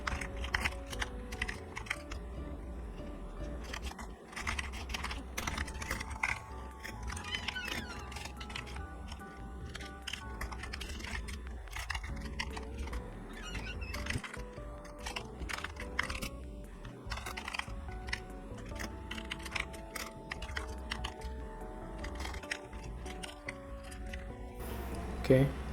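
Computer keyboard typing runs steadily through a long stretch of writing program code, soft rapid keystrokes continuing under a man's speech.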